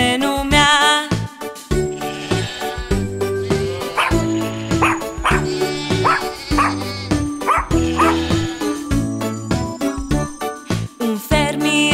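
A children's song with bright music and a voice imitating a dog's bark in rhythm, repeated yipping woofs riding over a bouncy instrumental backing.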